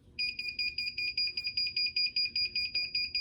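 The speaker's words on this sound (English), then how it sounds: "this is the sound you'll hear to let you know it's ready" A Fancier heat press's ready alarm, a rapid electronic beeping, repeats steadily, about four beeps per second, clear and fairly close with no talking.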